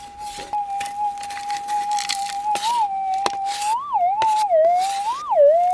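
Metal detector sounding a small target above an open stope at an abandoned gold mine: a sustained electronic tone that warbles and bends in pitch as the coil sweeps, over soft scraping and crackling ground noise.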